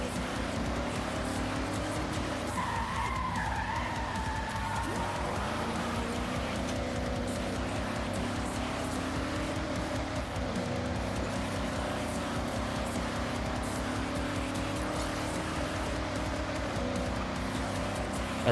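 Car engine in Forza Horizon 6, an American car with a low rev limit, drones steadily and loudly throughout with shifting pitch, a brief tire squeal early on, under a constant game mix.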